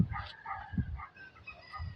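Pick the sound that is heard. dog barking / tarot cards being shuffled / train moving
dog barking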